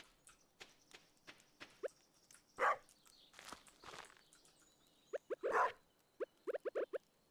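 Cartoonish dog barks from the Stardew Valley farming game, a few sharp yips standing out between soft game footstep and bounce effects, with a short burst near the end.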